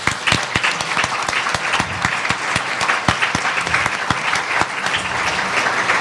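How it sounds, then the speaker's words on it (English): An audience at a panel session on language access claps steadily for the sign language interpreters, a sustained round of applause with no voices over it. "I want to applaud our wonderful interpreters today, sign language interpreters"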